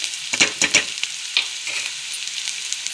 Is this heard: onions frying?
yes